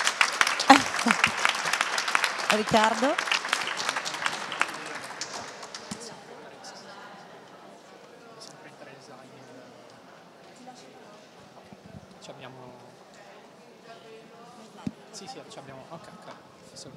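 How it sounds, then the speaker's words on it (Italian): Audience applause at a hackathon final with the Udine team called up, loud and dense for the first five seconds, then fading to a low murmur of a room with scattered taps; a voice speaks briefly. "Potete applaudire"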